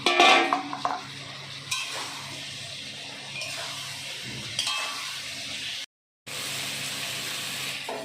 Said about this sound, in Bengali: এখন আমরা ফুলকপি দিয়ে ভালো করে আরেকবার কষিয়ে নেব